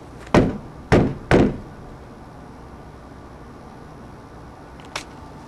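Three sharp knocks on a house door window in quick succession, then a single fainter knock after a pause, each a hard thunk over a quiet room.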